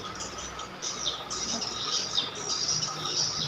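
Birds chirping faintly in the background, thin high tweets recurring through a steady hiss of room noise, with no speech.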